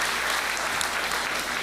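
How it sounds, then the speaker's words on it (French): Audience applause honoring the fathers at a church service, a steady dense clapping from a crowd filling the whole stretch at even volume. "Est-ce qu'on peut leur donner une main d'applaudissement à ces papas?"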